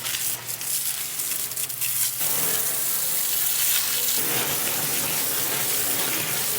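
Water gushing steadily from a tap or hose to rinse out a bucket and tools, a loud continuous splashing rush that shifts in tone as the flow hits different surfaces.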